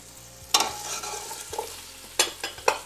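Okra, celery and carrots sizzle in a hot pan, a steady frying hiss broken by a few sharp scrapes and stirs of a spoon, close and alone.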